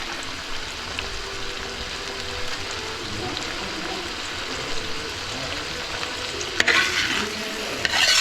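Shallots, crushed ginger and garlic sizzle steadily in hot oil while being stirred for a chicken curry, a continuous close frying hiss with occasional scrapes of the spoon.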